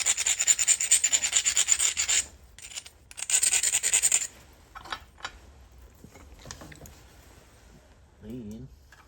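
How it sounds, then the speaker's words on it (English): Rough scraping and rubbing as the edges of a small stone biface are ground, in two strong bursts of gritty abrasion, followed by quieter handling while someone talks. "I'm gonna grind them edges pretty rough and go get rid of anything that's loose there"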